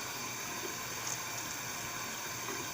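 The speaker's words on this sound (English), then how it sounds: "let me turn that water off now" Tap water runs in a steady, faint hiss and patter, a continuous even stream with no voices over it.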